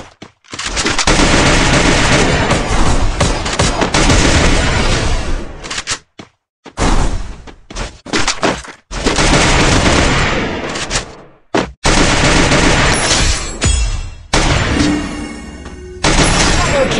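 Gunfire in a battle royale video game: long, loud, sustained bursts of rapid automatic fire broken by brief gaps and short volleys, very close and dense, with a voice speaking briefly among the shots.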